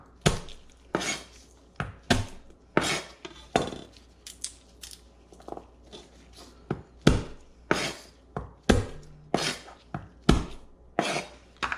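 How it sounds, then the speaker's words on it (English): Garlic cloves pressed under the flat of a knife on a cutting board, making sharp knocking thuds and crunches in an uneven rhythm, close and fairly loud against a quiet kitchen. "part of your knife and kind of just smush it down. And that really breaks the garlic away from the skin."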